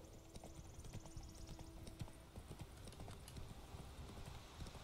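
Horse hooves clip-clopping at a steady trotting rhythm in The Witcher 3, a continuous patter of hoof beats over faint ambient game music, with no talking.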